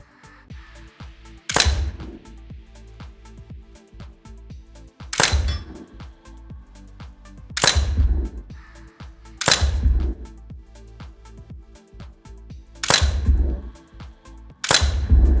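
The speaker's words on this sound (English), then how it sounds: "as you can hear the thumps, it actually registers hits on steel." Six sharp, loud impacts spaced a few seconds apart, each ringing briefly like a simulated shot registering on a steel target in a FATS 300LE training system, over a low steady background hum.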